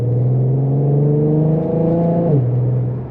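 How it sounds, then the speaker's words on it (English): An Infiniti G37 engine revs up under acceleration, with a deep, steady exhaust drone that rises and then shifts lower, close and loud. "This exhaust is really lovely."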